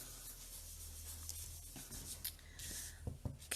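An ink blending tool rubs dye ink onto paper while building a card-making scene, producing a soft, continuous scratchy swishing with a few brisker strokes toward the end.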